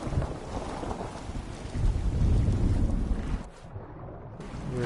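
Wind-driven night rain and thunderstorm weather in Fallout 4 at Far Harbor: heavy, buffeting gusts rise to a loud rumbling peak, then briefly drop away before picking up again, with no one speaking.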